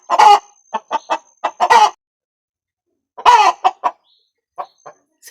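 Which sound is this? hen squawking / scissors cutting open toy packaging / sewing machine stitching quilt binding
hen squawking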